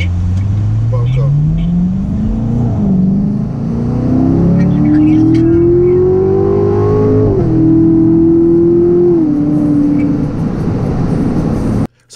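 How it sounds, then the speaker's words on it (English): A 2017 Chevrolet Corvette Stingray accelerating hard with the top and windows up, its exhaust note climbing steadily in pitch through a long pull, dipping at a gear change, then cutting off abruptly at the end; loud and close. "that glorious exhaust note that you just heard was from the Corvette with the windows up and the top up"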